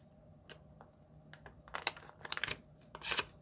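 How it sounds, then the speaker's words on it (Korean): Colored paper being folded and pressed for a tangram gives soft, close crinkles and crisp creasing rustles, sparse at first and then in quick clusters. "한 개도 더 마저 접을게요."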